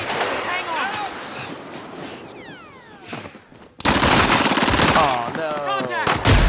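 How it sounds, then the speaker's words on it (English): RPD machine gun firing in the video game Warzone, a sustained loud burst in the second half, with a voice talking over the game audio in the first part. "I unloaded an entire clip into that guy with a fucking RPD and he didn't die."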